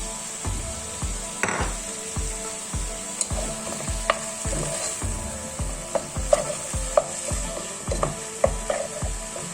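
Chicken pieces sauté in butter, seasoned with salt and white pepper, under a steady sizzle, with a rhythmic series of spatula knocks and scrapes against the pan at close range.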